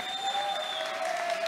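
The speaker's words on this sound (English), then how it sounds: "give a round of applause for both these warriors" At a Fight Circus combat-sports event, the crowd applauds both fighters after a bout. The clapping is brief and steady, with a thin whistling tone running through the hall noise.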